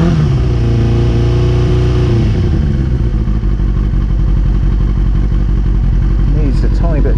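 A carbureted Kawasaki ZX6-R motorcycle engine runs on choke after starting, a loud, close, busy idle that settles into a rapid steady throb, with a voice talking over it.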